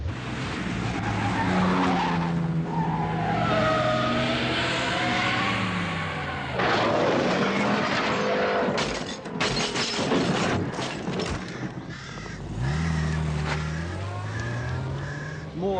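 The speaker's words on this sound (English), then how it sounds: "Some fool in a sports car just smashed into a tree." A sports car skids with a drawn-out tyre screech, then crashes into a tree with a sharp burst of impact noise near the middle, loud and close, over a sustained tonal backdrop.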